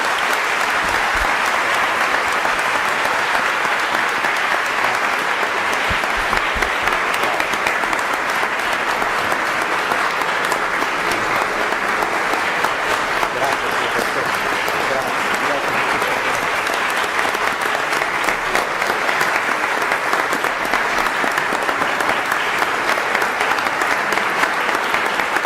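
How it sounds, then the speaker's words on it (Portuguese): An audience at a formal university event welcoming a visiting judge breaks into loud, sustained applause that fills the room with dense, even clapping for the full stretch. "Les pido por favor un fuerte aplauso para su señoría"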